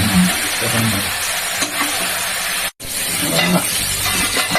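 Chicken pieces, potatoes and spices sizzle steadily in a pan while being sautéed for a Bengali red chicken curry, a loud continuous frying hiss with stirring, broken by one brief gap of silence.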